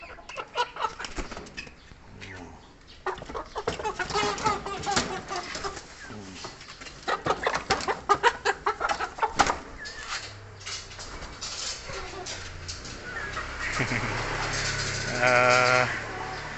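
Brahma and Kabir chickens on a farm: clucks and scratchy fluttering mixed with rustling and clattering, uneven bursts of activity close by, while a person talks intermittently.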